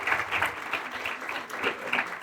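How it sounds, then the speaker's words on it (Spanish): Steady applause from an audience at a talk in Quito on preserving a vanishing handicraft, a dense, even wash of many hands clapping with no pauses throughout. "Don Alfonso y doña Esmeralda, primero les pido que se paren y que les den un aplauso."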